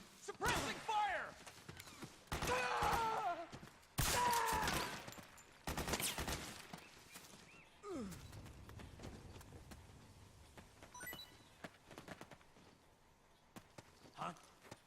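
Video game gunfire in a combat scene: loud bursts of rapid shots in clusters over the first several seconds, then sparser, fainter shots, with shouted voices mixed in throughout.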